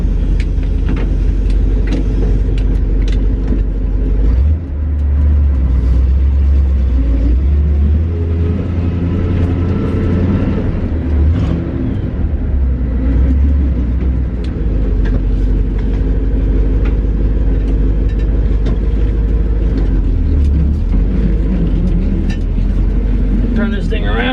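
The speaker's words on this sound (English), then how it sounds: "I can barely turn this thing around and drive it just through the neighborhood" A 1966 International Loadstar 1600 truck with questionable brakes drives slowly through a neighborhood, its engine a loud, deep, continuous rumble that swells and eases as someone talks over it.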